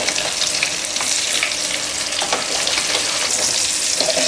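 Eggs frying in a pan with turmeric for egg biryani give a steady, close, bright sizzle that hisses on throughout with small crackling pops.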